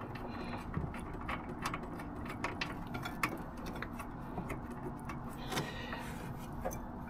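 A ratchet removing a bolt from a Gio mobility scooter bracket, making soft, quiet clicking and mechanical ticks in a steady, irregular series that stay faint throughout.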